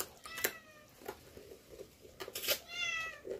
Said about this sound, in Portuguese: É o gato.